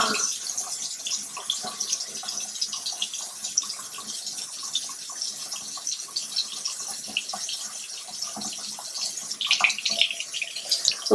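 Water runs steadily from a tap over makeup brushes, a soft continuous splashing hiss with faint clatter near the end.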